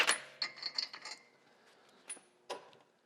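A 32 mm axle nut on a 2010-2014 Subaru Outback or Legacy is knocked loose with a tool, producing a few close metallic clanks and ratcheting clicks in short bursts, then quieter isolated knocks.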